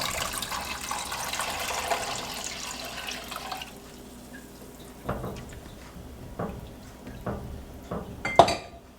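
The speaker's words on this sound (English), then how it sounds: "Now we're just going to add in our milk." Milk poured from a container into a pot of homestyle potato soup, a soft liquid pour in the first few seconds followed by scattered clinks and knocks of the pot and utensils.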